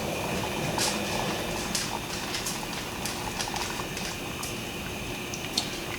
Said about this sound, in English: we're just gonna let this boil, and I'm gonna stir it during that time